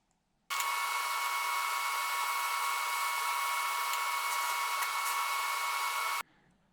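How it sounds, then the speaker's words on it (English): Joints of automotive exhaust tubing being welded give a steady, loud, even hiss and buzz that starts abruptly, holds for about six seconds and then cuts off sharply, with no talking. "Now I've got to get busy and weld up all of these joints."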